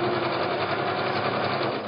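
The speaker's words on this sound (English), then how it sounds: "That way there's nothing that can get tangled up as it goes under the presser foot." A sewing machine runs steadily, stitching a log cabin quilt block seam with fabric passing under the presser foot, a continuous close mechanical whir without pauses.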